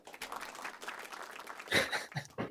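Applause sound effect played during a live stream, a brief burst of clapping and cheering that swells near the end, fairly faint and thin.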